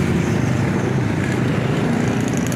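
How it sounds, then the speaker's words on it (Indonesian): Loud, continuous engine roar from a motorcycle with a booming aftermarket exhaust, steady and close, with traffic rumble underneath. "pakai knalpot brong"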